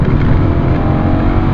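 A BMW E39 535i V8 engine roars loudly and steadily, revving hard on a manual downshift while cruising on a motorway, close and continuous throughout.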